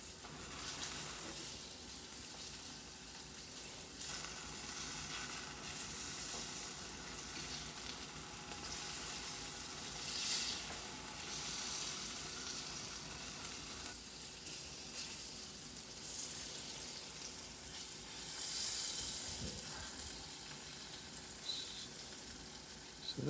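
Tofu pieces fry and sizzle in a pan for an orange tofu stir-fry, a steady, close crackling hiss that runs unbroken throughout with no talking.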